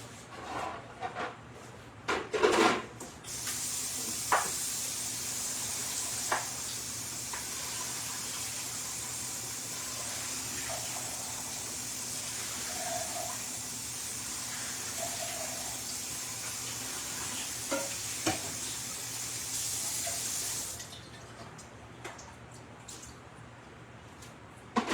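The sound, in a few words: draining liquid from a can of black beans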